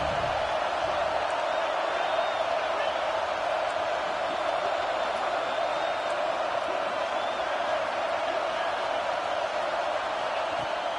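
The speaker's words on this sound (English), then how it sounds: "how nice is it to have the home crowd going absolutely bananas?" A home crowd at a football game roars continuously, a dense wall of cheering and whooping that stays loud and steady throughout with no gaps.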